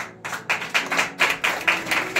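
A small group claps in a steady, even rhythm, roughly four claps per second, fairly close and clear with no talking over it, during a Telugu church sermon.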